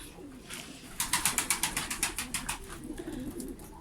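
Pigeons coo in a rooftop coop that houses female birds, giving a close run of rhythmic, pulsing coos that fade out toward the end, with no talking.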